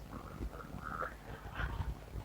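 Cartoon puppy voice from the iPhone X animoji feature, giving a few short, soft whimpering yips and barks in quick succession, fairly faint and close.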